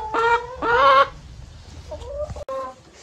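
Backyard egg-laying hens cluck and squawk loudly in a few sharp bursts close by, followed by softer, scattered clucks.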